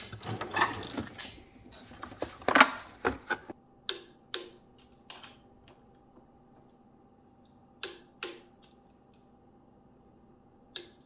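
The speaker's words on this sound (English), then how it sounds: "Always pretty satisfying to hear the torque wrench." A torque wrench on a vehicle's axle boot area clicks sharply several times while tightening, a quick burst of close clicks followed by spaced single ticks in an otherwise quiet garage.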